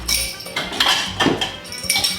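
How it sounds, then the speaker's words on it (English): Kitchen dishes clink and clatter close up as a bowl is taken out during Ghormeh Sabzi cooking, with a few sharp ceramic knocks and rattles spaced about half a second apart. "I'm gonna get a bowl for this so I have a place to set them."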